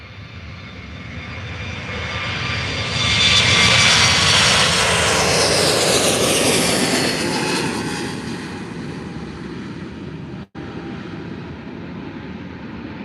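A Condor Airbus A321neo takes off at Faro Airport in the early morning. Its engine roar swells to a loud, broad peak and then slowly fades as the jet climbs away, steady and alone with no voices.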